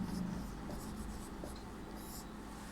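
Chalk or marker scratching across a classroom board while a teacher writes a Sanskrit word during a Class VI lesson, a steady close rubbing stroke with faint room murmur and no speech.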